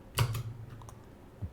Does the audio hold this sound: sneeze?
no